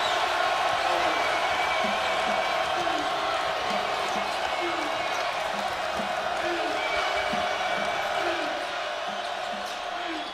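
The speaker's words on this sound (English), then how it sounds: "And listen to this crowd." Crowd noise in a college basketball arena during a Mississippi State versus South Carolina game, a dense continuous roar with scattered ball bounces and a commentator talking over it throughout.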